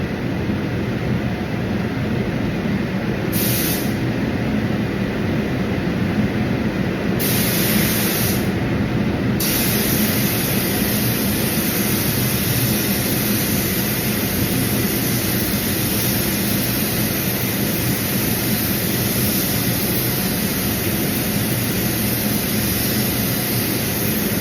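A spray gun lays a paint coat over a Holden HX Kingswood body, a continuous loud hiss of air and atomized paint, close up and unbroken, with brief changes in tone as the trigger is eased and pressed again.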